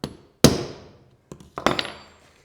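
Hammer blows driving a centre-punch dimple into a metal waveguide cover for a microwave repair: a sharp loud strike, a faint tap, then a double strike, each ringing briefly, close and alone.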